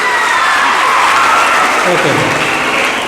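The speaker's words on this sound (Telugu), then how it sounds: "చప్పట్లు కొట్టండమ్మా." An audience at a ventriloquism show claps steadily, a dense loud wash of applause with a few cheers while a voice speaks briefly over it.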